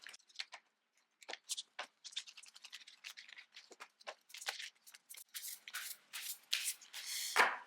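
Tarot cards being shuffled by hand during a reading, a steady run of close, crisp riffling and sliding bursts that grow denser and louder toward the end, with no talking.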